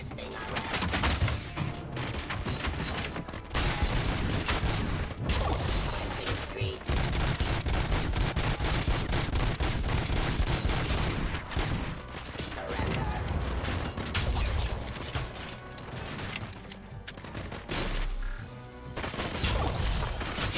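Sustained, dense gunfire and mechanical combat clatter from the Robocop Rogue City video game, loud and nearly continuous for about twenty seconds with brief pauses, with voices talking over it.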